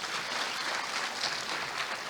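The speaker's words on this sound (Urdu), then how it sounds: "آپ کے لیے بھرپور تالیاں جی" At an awards ceremony, an audience applauds the guests: a steady, dense wash of many hands clapping at a moderate, slightly distant level with no individual claps standing out.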